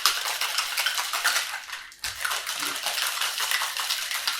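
Ice rattles hard inside a metal cocktail shaker in rapid, continuous rhythmic shaking, loud and close, with a brief pause midway before the shaking resumes.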